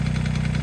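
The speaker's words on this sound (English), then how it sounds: "Of course, the tractor's at idle right now" A John Deere 1025R compact tractor engine idling close by, a loud, steady diesel rumble with an even, rapid pulsing rhythm.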